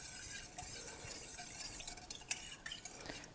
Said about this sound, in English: And we just stir that to dissolve it a little bit.